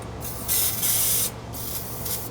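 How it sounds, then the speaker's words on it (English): Short bursts of aerosol starting fluid sprayed into a Ford bullnose truck engine, two hissing blasts close up with a steady low hum underneath. "it's time for some starting fluid"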